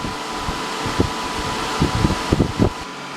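Steady whirring fan noise from a Zeushash bitcoin mining rig, a constant broadband drone with a few soft thumps and knocks scattered on top.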